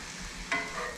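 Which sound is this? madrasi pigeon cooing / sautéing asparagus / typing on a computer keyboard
sautéing asparagus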